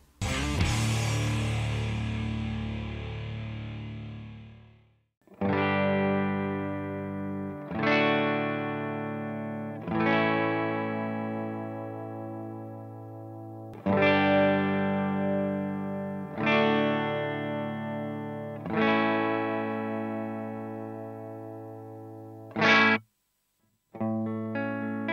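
An electric guitar through IronGear Dirty Torque and Hot Slag bridge pickups plays distorted chords, each struck and left ringing for a few seconds, with a long opening chord and a short choppy hit near the end.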